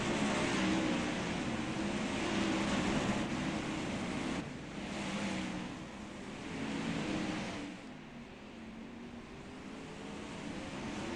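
Several 410 sprint car engines roar steadily in a racing simulation game, a dense, continuous drone that swells and dips slightly as cars pass, with no voices over it.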